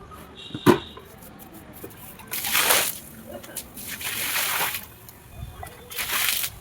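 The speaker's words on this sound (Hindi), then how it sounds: "पानी मैंने झरने दे दिया है एज यू कैन सी। ठीक है, वो ज़रा पाइप से नीचे गिर रहा है।" Water splashing and sloshing as it falls from a pipe into a stream, in bursts of louder gushing between quieter trickling, with a brief sharp knock early on.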